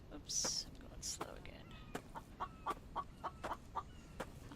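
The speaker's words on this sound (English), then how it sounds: "I hear you, chicken. You're safe for now." A chicken in the survival video game The Infected clucks in a quick run of short, clipped calls, fairly close and moderately loud, with a couple of soft whispery noises at the start.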